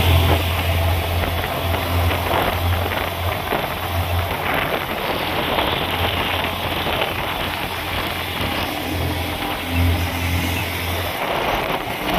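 A tricycle engine idles continuously close by, a steady low throbbing rumble with a broad noisy wash over it, sounding much like rain, running unbroken throughout with no talk.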